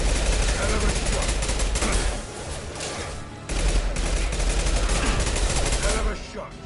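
Bursts of rapid automatic gunfire crackle from a firefight in the video game Mass Effect Legendary Edition, loud and dense in two sustained volleys with a short lull between, voices talking over the shooting.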